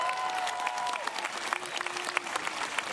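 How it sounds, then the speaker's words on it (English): An audience claps at a high school graduation ceremony, a dense, steady patter of many hands that carries on throughout the clip, with a murmur of voices mixed in. "So give them a round of applause too."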